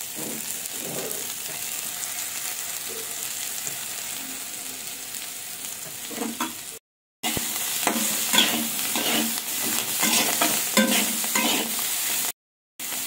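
Potatoes and drumstick flowers fry with a steady sizzle in a pan while a utensil stirs them in repeated scraping strokes, with two brief silent gaps.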